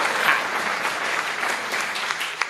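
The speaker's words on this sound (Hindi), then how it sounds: "मैं चाहता हूं एक और तालियों से मुझे आप आदेशित करें।" A crowd at a Hindi comic poetry recital (kavi sammelan) claps continuously, a dense, even wash of applause that holds steady without a break.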